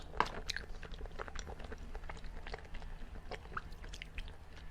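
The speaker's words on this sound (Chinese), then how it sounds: "先吃一口汴西果冻" Jelly dessert being bitten and chewed close to the mic in an ASMR eating session. Quiet, soft squishy mastication repeats irregularly through the clip with a few small clicks.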